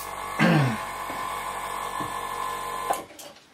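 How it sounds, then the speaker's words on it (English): An airbrush sprays Mr. Surfacer 1200 primer in a steady, close, continuous hiss with a faint mechanical hum, broken by a few soft clicks and ending in a brief sharp hiss. "So I'm just going to flick my my airbrush on."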